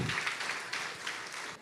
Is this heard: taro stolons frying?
no